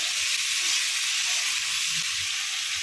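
Vegetables frying in a pan with salt and turmeric for bottle gourd greens chorchori, an even, continuous hissing sizzle, close and steady throughout, with no speech.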